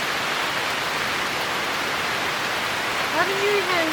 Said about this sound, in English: And of course it rains.